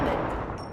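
A short burst of rapid video game gunfire, loud and close, from a squad-based shooter.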